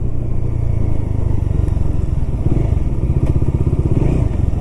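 A motorcycle rides through drizzly monsoon weather under cloudy skies, its engine a loud, close, steady low throb with rhythmic pulsing and faint rattles throughout.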